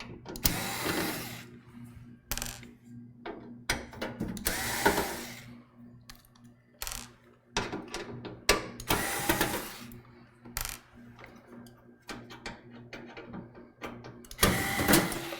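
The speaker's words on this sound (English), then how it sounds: "I always start with the bottom screws on the board so the board doesn't fall out when I get to the last screw" Screwdriver taking out motherboard screws in an old computer during teardown, with repeated bursts of close scraping and clicking across the span and no talk.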